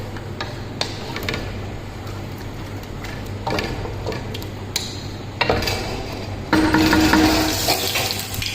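A cauliflower and potato curry gets stirred in a pan, with scattered light scraping clicks and taps of a utensil against the metal over a low steady background hum, growing a little busier toward the end.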